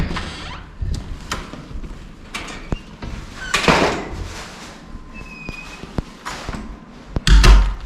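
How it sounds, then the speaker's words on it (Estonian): A pivoting door in an Australian house being handled, with scattered thumps, taps and rattles, a few sharp knocks and a heavier thud near the end, close by. "Selline uks on hästi nagu usalik, ta on pööratav."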